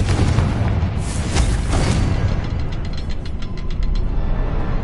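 In the video game Hogwarts Legacy, a Confringo fire spell blasts inside a cavern with a loud, booming, crackling burst, followed by rumbling debris and faint clicking mechanisms, dense and close throughout.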